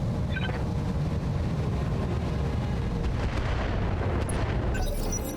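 Mech weapons firing in the BattleTech video game, heavy rumbling booms and blasts forming a dense, loud barrage of explosive impacts that continues throughout.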